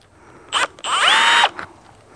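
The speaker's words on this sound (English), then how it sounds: "That way the drill bit can go in without just tearing the crap out of everything." A power drill bores through the first layer of tubing for a kayak hanger: a short whine starts, drops, then runs loud and steady for about a second before stopping, close up with no talking.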